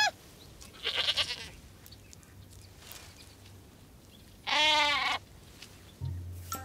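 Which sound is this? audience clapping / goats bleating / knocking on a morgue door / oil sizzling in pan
goats bleating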